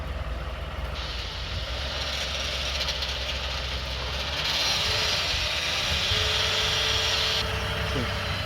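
A car engine held at a steady raised speed of around 1500 rpm, a continuous droning hum that swells slightly louder midway, close and alone with no talk.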